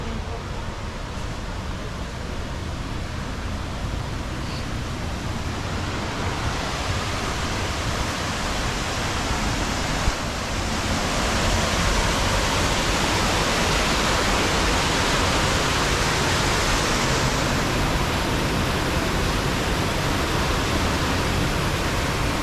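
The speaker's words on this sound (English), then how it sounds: "I can hear the waterfall already over there." A waterfall in Lembang, Bandung rushes as a dense, steady roar of broadband water noise that grows slightly louder partway through, with faint talk beneath it.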